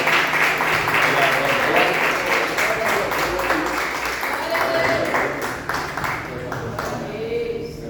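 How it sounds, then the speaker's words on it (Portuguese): Congregation applause at a church service, sustained clapping mixed with a voice and some ringing tones, gradually fading over several seconds. "as palmas somente para o Senhor"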